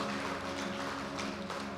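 Church congregation applauding, a dense steady wash of many hands clapping at a moderate distance, continuous throughout with no speech.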